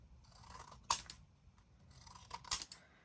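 Scissors cutting strips of cardstock for a paper craft journal, two sharp close snips about a second and a half apart over a quiet room background.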